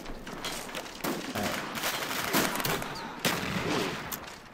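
Gunfire in the video game Call of Duty Black Ops, Gun Game mode, sharp repeated shots and bursts in quick succession with mechanical clatter, loud and close, no talking over it.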